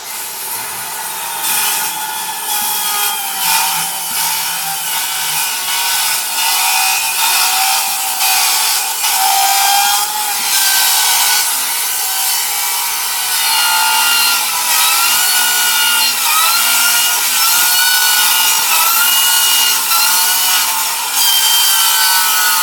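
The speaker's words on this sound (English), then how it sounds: "So that became so difficult to cut as the carbide dulled out." A Diablo carbide-tipped saw blade cuts through metal with a loud, continuous grinding rasp that stays dense throughout, its shrill high edge shifting and straining as the dulling carbide struggles against the workpiece; no talk over it.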